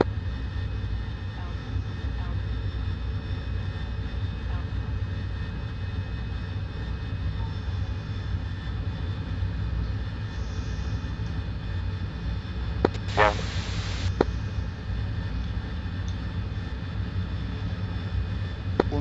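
An AV-8B Harrier jet engine in the DCS flight simulator game holds a steady, continuous roar throughout, with a brief brighter hiss midway and radio-style voices speaking over it.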